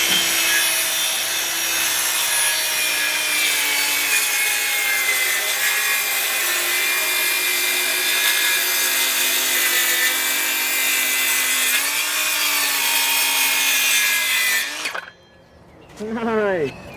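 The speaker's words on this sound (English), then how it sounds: "wherever your saw lands, and you wanna cut the amount that you want off" A saw cuts through a clamped wooden board while building a whelping box, a loud continuous rasping whine with steady tone that runs without a break, then stops abruptly near the end, leaving a few faint knocks.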